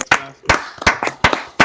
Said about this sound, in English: Clap it up for this draft class